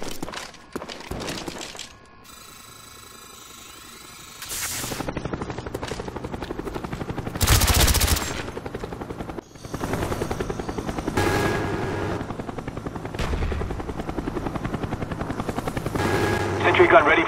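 A Cobra attack helicopter from Call of Duty: Black Ops comes in during a hardcore free-for-all match on the Hanoi map. It is a steady rotor roar mixed with bursts of gunfire and game effects, with a brief voice callout over the top.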